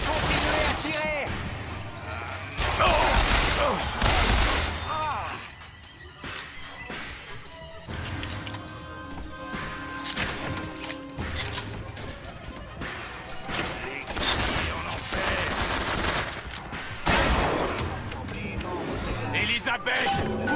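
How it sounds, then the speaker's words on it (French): Gunfire crackles in bursts during a BioShock Infinite firefight, mixed with crashes, thuds and game sounds, with a player talking over much of the action. "Continuez à tirer."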